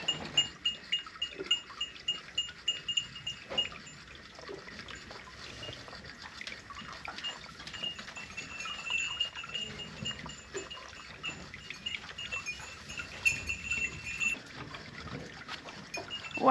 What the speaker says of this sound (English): Wow, Frenzy, that was a good chug